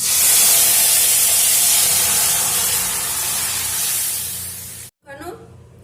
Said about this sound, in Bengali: এখন আমি হাফ চামচ পাঁচ ফোড়ন দিয়ে দিচ্ছি এই ডালের মধ্যে পাঁচ ফোড়ন দিলে অনেকটাই ভালো লাগে আমি ডালটা ঢেলে দিচ্ছি